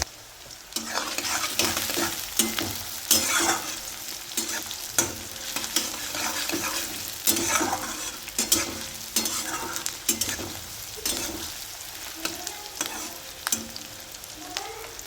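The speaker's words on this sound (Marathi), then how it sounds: "कांदा थोडासा गुलाबी रंगाचा परतून घ्यायचा आहे" Onion is sautéed until pinkish in a pan that already holds mustard seeds and cumin. It sizzles steadily and close, with frequent stirring scrapes and clicks from the spatula throughout and no voices.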